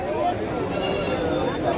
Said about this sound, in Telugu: మేకలు పోతులు అయితే భారీగా వచ్చినాయి ఫ్రెండ్స్ ఇక్కడ కూడా ఉన్నాయి